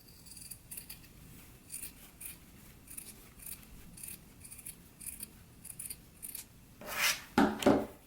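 Scissors trim sewn fabric and interfacing on a skirt, soft repeated snips and rubs through most of the stretch, then two louder, sharper cuts close by near the end, with no talk.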